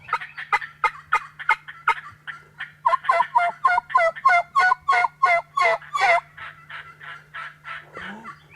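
Three wild turkey gobblers gobble in repeated rapid rattling bursts, one after another and sometimes overlapping, fairly close and loud in an open outdoor setting, with a faint steady hum underneath and no talk.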